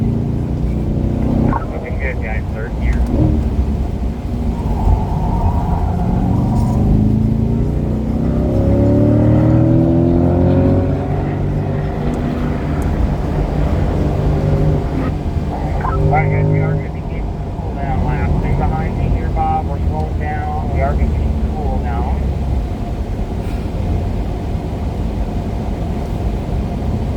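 A C8 Corvette accelerates around a race track at a performance driving school, its engine a steady, loud low drone that runs the whole time beneath near-continuous talking.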